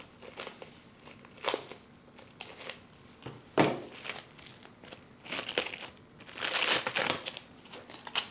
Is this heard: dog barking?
no